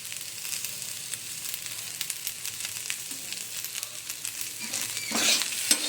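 Vegetables fry with salt in a pan, giving a steady moderate sizzle with faint stirring scrapes, swelling briefly louder near the end.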